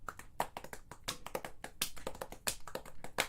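A rapid run of sharp hand claps and taps, close and fairly quiet, in an irregular patter of many quick strikes with no voices.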